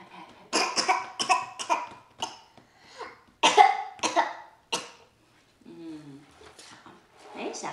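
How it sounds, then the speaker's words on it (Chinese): A child gives a series of short, close coughs and throat clears in quick bursts, separated by brief pauses, with a soft vocal sound near the end. "宝宝咳嗽了。 咳嗽了，怎么咳嗽？"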